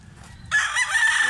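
A loud rooster crow bursts in close by after a brief quiet moment, holding strong through to the end.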